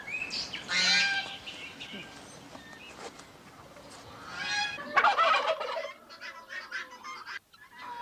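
A male turkey gobbles loudly in rippling bursts, twice, amid other farmyard poultry calls; nearby, rather close and clear.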